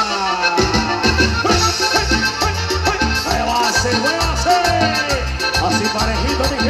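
Live band at a 2016 show in San José del Potrero playing a song, with dense, continuous music carrying a steady rhythmic bass beat and bright layered instruments throughout.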